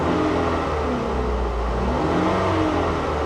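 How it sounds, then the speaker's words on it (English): A used van engine, from either a Honda Odyssey or a RAM 3500, idles steadily and is given a light rev, producing a continuous close mid-low engine drone with no voices. "Give it a little rev."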